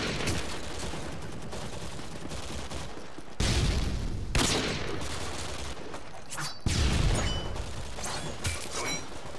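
Chinese Call of Duty Online gunfire crashes in loud bursts, several sharp volleys with rattling automatic fire and mechanical clicks between them, close and dense over a few seconds.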